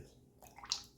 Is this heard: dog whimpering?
no